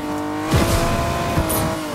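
A McLaren car drives loud and close in Fortnite Chapter 5, its engine droning steadily and rising with brief surges as it accelerates.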